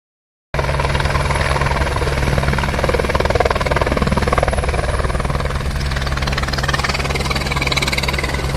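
A helicopter at the Panchtarni helipad on the Amarnath Yatra route starts after a brief silence and then roars loudly and steadily nearby, with a constant rotor beat and engine whine.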